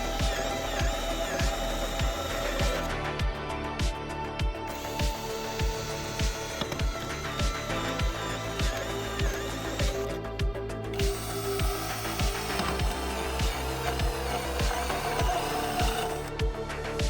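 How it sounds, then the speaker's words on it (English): Metal cans being cut and drilled to make an emergency stove, a close, busy mechanical whirring with rapid repetitive clicking and ratcheting ticks, continuous with brief gaps and no talk. "I'm carefully cutting and drilling the cans to turn them into a simple emergency stove."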